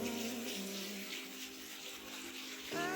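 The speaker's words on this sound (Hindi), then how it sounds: "ये कोई व्हील सा बना हुआ है ऊपर और उससे पानी आ रहा है।" Water spills steadily from a wheel-shaped feature inside Dubai Mall, a soft continuous splashing under a faint indoor hum, rising slightly at the end.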